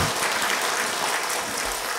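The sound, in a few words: church congregation applauding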